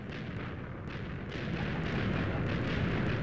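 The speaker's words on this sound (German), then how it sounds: "What the fuck ist jetzt da explodiert?" Explosion in the game Minecraft, a loud sustained rumbling blast that fills the whole clip and swells slightly louder in the second half, with no speech.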